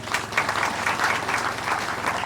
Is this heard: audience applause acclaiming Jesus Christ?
yes